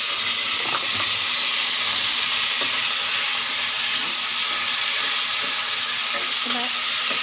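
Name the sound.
tomato frying in hot oil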